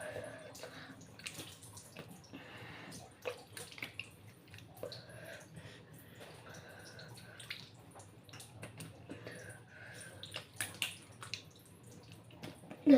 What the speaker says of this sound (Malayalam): ഞാൻ എൻ്റെ മുഖം മൊത്തത്തിൽ കഴുകാൻ പോകാം.